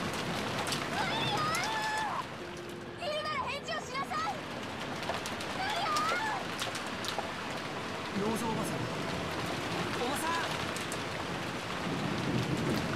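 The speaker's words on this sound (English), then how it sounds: "George and Iki and I flew out into the rain." Steady rain hisses throughout with low rumbling thunder in the video game Umineko: When They Cry, while voices speak over it and faint bird-like chirps break through now and then.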